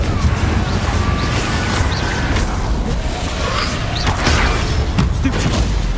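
A Confringo blasting curse explodes in Hogwarts Legacy, a loud continuous crashing boom with whooshing debris that stays dense and steady throughout.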